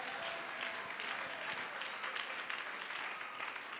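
Dense, steady applause fills a church as the congregation claps together throughout, with no talking heard.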